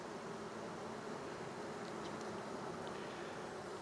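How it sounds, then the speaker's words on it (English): A dense, steady buzzing hum of many honeybees inside a hive, close and continuous, with a constant drone throughout. "There is a ton of bees in here though."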